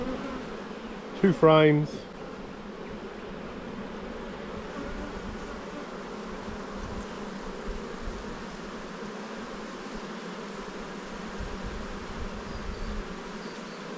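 A large spring honey bee colony hums in a low, steady drone throughout, with a brief louder burst early on, as the hive is opened and inspected.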